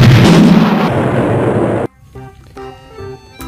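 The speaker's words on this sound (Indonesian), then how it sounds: "Ini dia granat. Execute." A loud grenade explosion bursts out at once as a dense, booming roar that holds for nearly two seconds, then cuts off sharply to a much quieter tonal sound, like a game's music or chime, that continues to the end.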